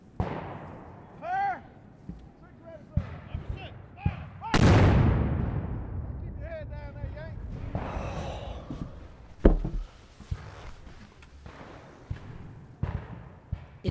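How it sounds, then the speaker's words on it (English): Cannon and artillery fire from a war historical drama, a series of heavy booming blasts with one especially loud close shot, scattered between other impacts and clatter, with voices speaking in between. "Too close to the cannons out there."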